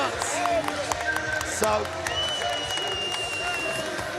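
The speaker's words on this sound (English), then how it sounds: "Man, listen to the crowd. They're going absolutely nuts." Arena crowd at a SENSHI 25 live fight night erupts after a unanimous decision, a dense roar of cheering, whistles and clapping carrying loudly throughout, with a commentator's voice briefly heard over it.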